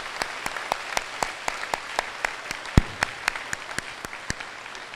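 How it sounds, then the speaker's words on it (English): Applause in a high school graduation ceremony hall, heard as sparse, separate claps spaced fairly regularly, a few louder than others, over a quiet room tone. "Please give one last round of applause for the Bushnell-Prairie City High School's top 10 from the class of 2021."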